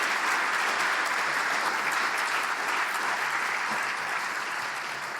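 Audience applauding for senior art students at a school colloquium, a sustained, even round of clapping from a crowd with no talk over it.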